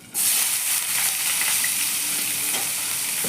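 Chopped onions fry loudly in a pan for a Bengali muri ghonto, a steady close, dense sizzle that starts abruptly and holds without a break.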